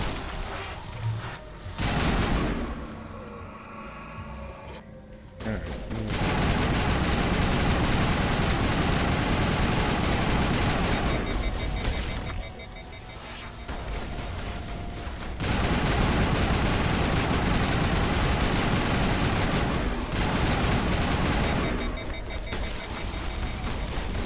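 Gunfire in the Mass Effect video game comes in long, dense bursts of rapid shots separated by short pauses, loud and continuous, with no voices over it.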